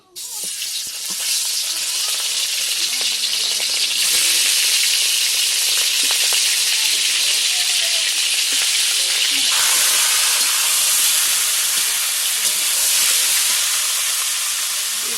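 Loud, steady sizzling of meat frying in a hot kadai (wok), a dense hiss that swells slightly and continues without pause for the whole stretch.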